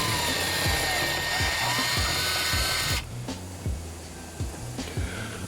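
A power drill bores holes through metal for a KFLO track mount, whining loudly and steadily, then easing off into short bursts with repeated low thuds and clunks as the bit breaks through.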